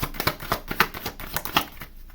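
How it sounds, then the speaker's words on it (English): Playing cards shuffle in a quick series of crisp riffling flicks and snaps, close and fairly soft, with no voices over them. "All right, one more shuffle."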